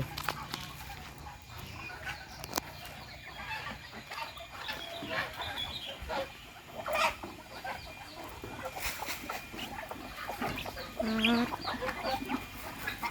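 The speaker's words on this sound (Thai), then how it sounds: "ดูน้องจีนให้อาหารเป็ดไก่" Chickens cluck repeatedly around a grandmother's garden home as ducks and chickens are fed. The calls are scattered and irregular, fairly close, with faint background noise and brief higher squawks.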